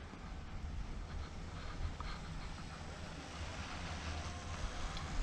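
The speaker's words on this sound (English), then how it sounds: "That's the sound of silent skis on lovely snow." Skis glide steadily over fresh spring snow, a soft continuous hiss mixed with wind rush at the microphone, with no talking.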